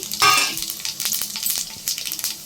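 Whole garam masala spices fry in oil in a kadai, sending up a close, bright sizzle with crackles and a few stirring scrapes, no talking.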